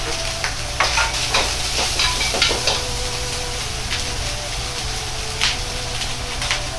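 Minced ginger and garlic sizzle steadily in a hot pan with ground pork, a dense crackling hiss broken by several louder stirring scrapes, close and without talk.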